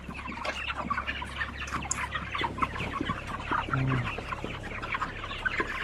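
Many 32-day-old chicks cluck and chirp together in a busy, continuous chorus, close by, with no talking.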